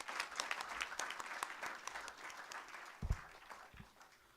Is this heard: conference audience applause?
yes